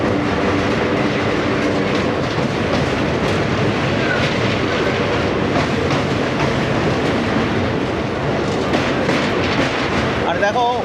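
An express train rolls across a rail bridge at Kolaghat with a continuous loud rumble and clickety-clack of wheels. Brief squeals come near the end, and a voice is faintly present.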